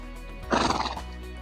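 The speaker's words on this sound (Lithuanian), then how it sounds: "Va, visiškai atsipalaidavę arkliai. Vienas prunkštauja." A relaxed horse in a liberty-work session, loose without saddle or bridle, lets out a single short, breathy snort close by, a brief burst over a low background hum.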